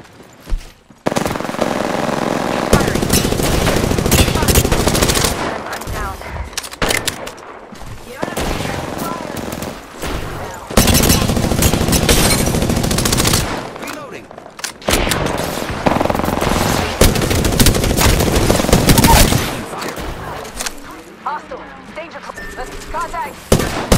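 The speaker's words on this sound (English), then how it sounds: "Opening fire on the enemy." Bursts of automatic gunfire from an Apex Legends firefight, loud and repeated in long rattling volleys with short pauses, broken by a gap of quiet and other game effects.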